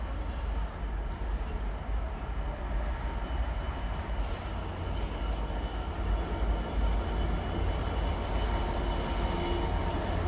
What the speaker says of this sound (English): our next freight to come through will be a Freightliner 66 going from Washwood up sidings to Tonstead down sidings